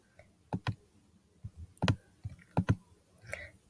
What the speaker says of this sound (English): So when I click verify